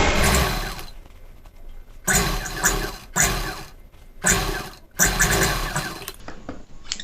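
Sewing machine stitching a high-neck blouse collar, running in loud close bursts of about a second each, stopping and restarting several times with short quiet gaps.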